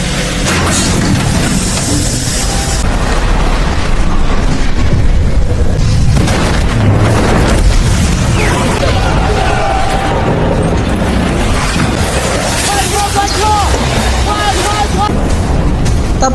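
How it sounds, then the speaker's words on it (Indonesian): A loud, sustained explosion rumbles through a dense film soundtrack for the movie Flash Over, with heavy low booming and debris-like noise throughout. "ledakan tiba-tiba terjadi sehingga membuat mereka semua terpental dan semakin terpojok"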